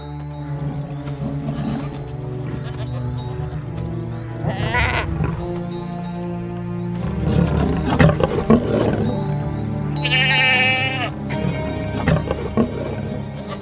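A lion roars over a backdrop of bleating goats, with a herder's kids nearby; the animal calls come in several bursts, fairly close and loud, set against a steady musical score.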